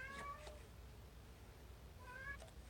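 A cat meows twice, with a brief quiet gap between the two calls, heard faintly over a low background hiss.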